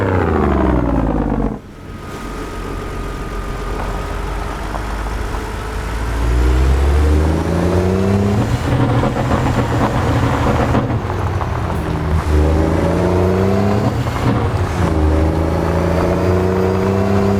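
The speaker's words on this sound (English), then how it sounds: "It definitely hits off its rev limiter there quite easily. It's a Detroit diesel, 14-liter." A Detroit Diesel 14-liter truck engine in American Truck Simulator revs hard and repeatedly bounces off its rev limiter, a loud, steady drone with rising and falling pitch sweeps that carries on without any talking.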